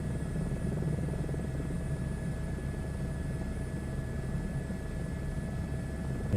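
Muffled, continuous engine and rotor hum heard from inside a simulated helicopter cabin in Microsoft Flight Simulator 2024, low and steady from start to finish, with no talking.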